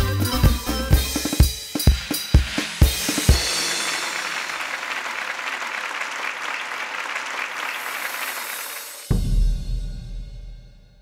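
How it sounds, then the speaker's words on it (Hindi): An audience at a circus welcomes the artists with applause: a few loud, sharp claps at first, then a broad wash of crowd clapping that swells and fades before a sudden low thud near the end. "तो तालियों से स्वागत कीजिए हमारे इन होनहार आर्टिस्ट"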